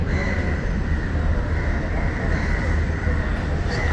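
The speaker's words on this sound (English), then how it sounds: "It's a cool railway station" A train rumbles steadily at a railway station in Sri Lanka, a continuous low drone with a faint sustained whine above it, fairly close and unbroken.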